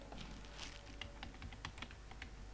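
Rapid keystrokes on a computer keyboard while someone types PHP code for a database password field: light, irregular clicks in steady bursts, fairly quiet over a low background hum.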